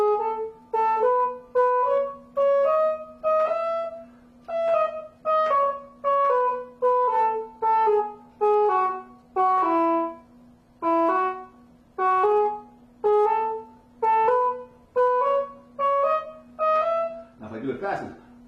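A soprano saxophone playing a steady run of short, evenly spaced accented notes alternating between two pitches, clear and close over a faint sustained hum, ending in a brief breathy noise.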